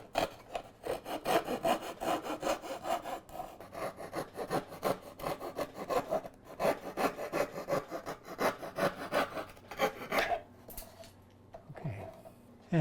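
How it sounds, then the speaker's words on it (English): Coping saw cutting a piece of wood backed with plywood while making a song stick, producing steady, rhythmic rasping strokes at close range that continue for about ten seconds before stopping. "And again the coping saw."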